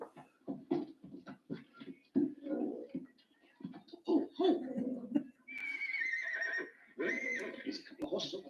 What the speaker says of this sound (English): There's a couple of horses over there.